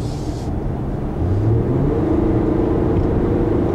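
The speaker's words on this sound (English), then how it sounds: "You can see that this is a CVT because it likes to hold the revs, typical like in a CVT." Engine of a 2013 Infiniti JX35 with a CVT holding steady revs while driving, heard from inside as a constant low drone that swells slightly after the first second and then stays level, with road rumble beneath.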